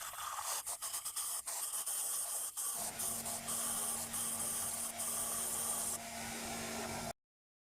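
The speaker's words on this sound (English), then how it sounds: "I'm going to try to blow out as much as I can with compressed air." Compressed air hisses steadily and loudly into the oil-filled spark plug tube of a Toyota 5SFE four-cylinder engine. Short sharp bursts come first, then a long continuous blast with a faint whistling tone before it cuts off.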